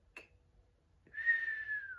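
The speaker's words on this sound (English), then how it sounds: "oh, I whistled. That was for real." A person whistles, a short faint chirp followed by a longer sustained falling note, alone in a quiet room.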